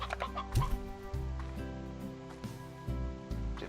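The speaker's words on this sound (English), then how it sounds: "See if a second rooster helps things along." A rooster clucks in the Slime Rancher video game, a few short clucks with a steady ambient hum under them, fairly quiet and with no talking.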